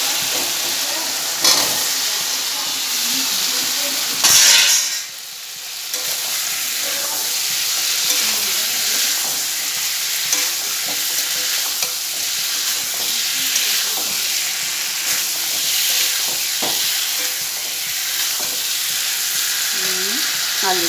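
Potato pieces fry in hot oil for an aloo dum dinner, a steady close sizzling hiss throughout with a brief clatter of stirring early on.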